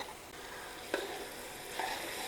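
Steady frying sizzle of onions, celery and carrots in butter, with a couple of brief clattering bursts as the vegetables hit the pan, continuous and close.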